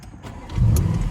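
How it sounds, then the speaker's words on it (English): A 2017 Audi S7 sports sedan's engine starts: quiet at first, then a low rumble swells and settles into a steady, close idle for the last half second. "So if we start it up,"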